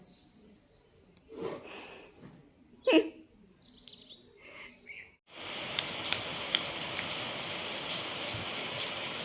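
After some quiet movement and a few faint sounds, a steady, dense rain starts suddenly and keeps pouring, with occasional sharper drops or chirps.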